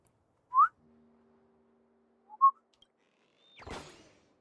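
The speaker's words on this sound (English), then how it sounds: "Whistles coolly" A game character in Honkai Star Rail whistles coolly in two short, bright chirps about two seconds apart, with a faint low hum between them, followed by a brief rushing swish.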